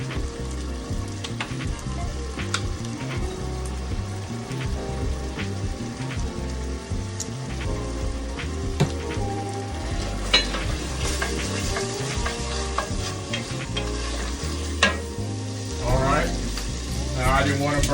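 A sauce seasoned with onion and garlic powder cooks in a pan, giving a continuous bubbling sizzle with scattered pops and stirring clicks, at moderate level with no one speaking.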